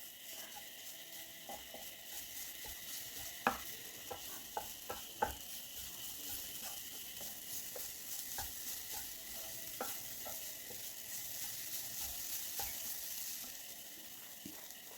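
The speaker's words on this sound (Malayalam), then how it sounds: "അതേ പാനിൽ തന്നെ ഒരു ചെറിയ തേങ്ങ ചിരകിയതാണ്, അത് നമുക്കിതിലേക്ക് ഈ പാനിലേക്ക് ഇട്ട് കൊടുക്കാം." Freshly grated coconut being stirred in a hot pan to dry out, with quiet scraping and soft sizzling plus scattered sharp clicks of a spoon against the pan, with no talk.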